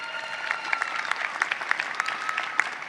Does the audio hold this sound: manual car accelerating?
no